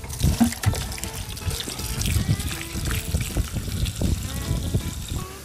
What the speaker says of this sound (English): Now we're gonna go ahead and put some water in our bucket with our potatoes.